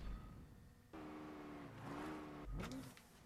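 Car engines revving in a race in the video game Saints Row 3, with rising whines, shifting tones and a sharp rev surge near the end, fairly faint and without talk.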